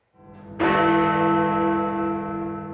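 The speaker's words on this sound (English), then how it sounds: "Big Ben's familiar sound soon silenced." Big Ben, the great bell at the Houses of Parliament in London, strikes a single loud resonant chime whose rich ringing tone hangs and slowly fades.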